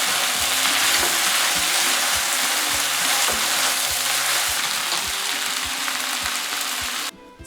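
Beef noodles with bean sprouts, spring onion and cilantro stir-frying in a hot pan, a loud steady sizzle with regular scraping and tossing strokes throughout, cutting off sharply near the end.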